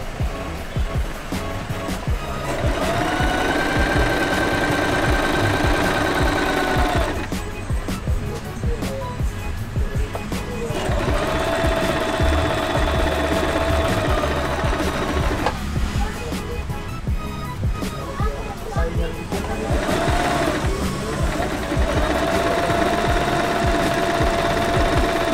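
A Singer Simple 3232 portable sewing machine stitches in three sustained runs of steady, fast mechanical whirring, separated by short pauses, loud and close.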